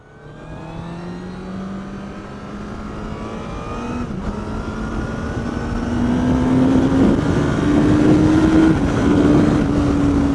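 A Honda CBR1000RR Fireblade SP motorcycle accelerates hard, its engine note climbing steadily in pitch and growing louder over about ten seconds, a continuous close-up roar with no voices.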